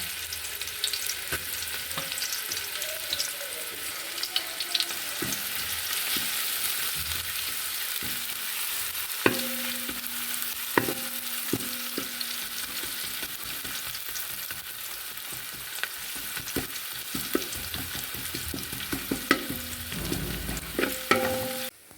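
Sliced onions sauté in oil in a pan, a steady broadband sizzle running throughout with occasional sharp clicks and scrapes of a utensil stirring against the pan, close and alone without any talk.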